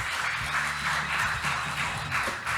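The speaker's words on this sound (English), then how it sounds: "Please give her a big applause." Audience applause fills a conference hall for a presenter at the Try Everything 2023 event, a steady, moderately loud wash of clapping with low background hum.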